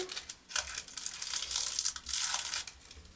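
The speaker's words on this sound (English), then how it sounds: "we're gonna cover with some white crepe paper" White crepe paper crinkles and rustles close up while a mini lion piñata is being covered, giving a steady, soft crackling with brief louder crumples and no talk.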